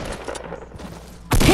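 Pump shotgun fire in the video game Fortnite: a few muffled shots and impacts, then one loud, close blast near the end.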